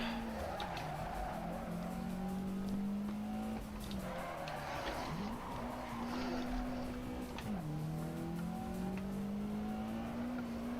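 A car in a racing video game runs a braking test, its engine droning steadily, then dropping sharply in pitch several times as it slows, with tire noise under the engine.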